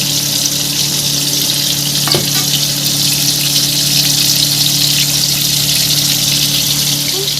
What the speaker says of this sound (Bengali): আমি মাছগুলো এরকম হালকা করে ভেজে নিয়েছি